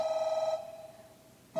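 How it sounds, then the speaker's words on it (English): A telephone rings with a steady electronic tone, holds briefly, fades, then starts again as a second ring begins, moderately loud in a quiet room. "Whose phone is that?"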